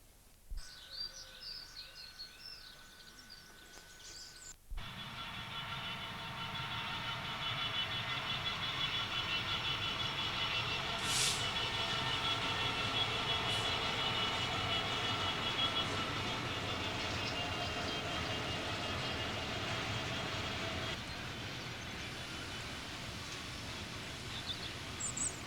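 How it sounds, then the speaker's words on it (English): A Class 66 Freightliner diesel locomotive waiting at signals on the line from Sheffield rumbles steadily nearby with a sustained engine drone, after a quieter start where birds chirp in the background. "The Class 66 Freightliner locomotive is halted at signals"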